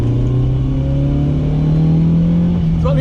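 A BMW E30 M3 engine revving hard through a turn, a loud close in-cabin drone holding steady pitch with a slight rise, continuous for the whole stretch.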